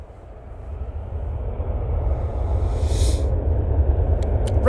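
A Ryanair jet bound for Madrid accelerates on its takeoff roll, a broad low engine rumble building steadily and holding loud, with a brief hiss midway and faint clicks near the end.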